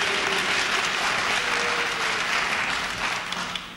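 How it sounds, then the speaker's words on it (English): Sustained applause from a large audience at the 1984 Reagan–Mondale presidential debate, steady and loud throughout before beginning to thin out at the end. "No applause, please."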